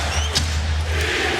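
Crowd in a Boston basketball arena at the 2008 NBA Finals Game 1, Lakers at Celtics, roaring loudly in a brief continuous burst of cheering.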